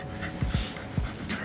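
A dog at a dog park whimpers and pants close by, with several short breathy bursts and soft whines over a steady outdoor background.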